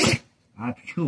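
A royal poodle lets out one short, sharp sneeze right at the start, close by, followed by a person speaking.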